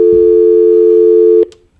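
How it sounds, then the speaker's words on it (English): A radio station phone line sounds a single steady electronic tone, loud and constant for about a second and a half before cutting off abruptly. "You got the phones buzzing."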